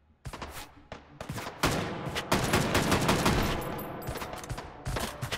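Repeated gunshots ring out in the VR game Hot Dogs, Horseshoes & Hand Grenades on a tower custom map, sharp cracks coming in irregular bursts and clusters with no pauses longer than a second.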